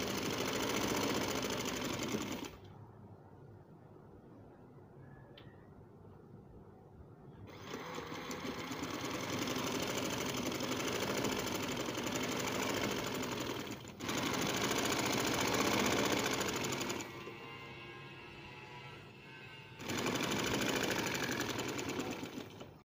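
Sewing machine stitching along lace laid over a frill on a trouser, its steady whirring running in long bursts with brief pauses between seams, close and alone with no talk.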